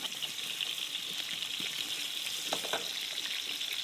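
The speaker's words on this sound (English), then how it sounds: "She's just frying up raw potatoes." Raw potatoes fry in vegetable oil in a home kitchen, giving a steady, close hiss and crackle with a few sharper pops and light stirring scrapes throughout; nobody speaks.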